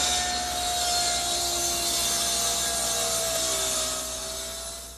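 A table saw rips wood scraps into cross pieces for a rocking horse, a steady loud whining cut with a sustained hum throughout, tapering slightly at the end.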